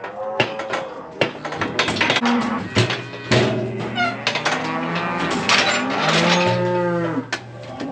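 Several cattle moo loudly and repeatedly at close range, their long overlapping calls filling a livestock pen during vaccination and doctoring.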